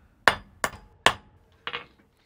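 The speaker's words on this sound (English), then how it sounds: "I also did a little bit of hammering to bring it very close to cube-like shape." Silver formed from melted coins is hammered toward a cube shape: four sharp metallic blows, the first three evenly spaced and the last after a longer pause and slightly duller, close and fairly loud in a quiet room.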